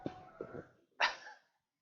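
A pet dog indoors in a home kitchen gives a couple of soft huffs followed by one sharp, close bark, then falls silent.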